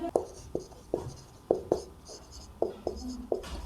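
Pen strokes scratching on paper while math equations are written out, close and moderately loud, coming as about nine distinct taps and scrapes spaced irregularly through the clip, with no voices.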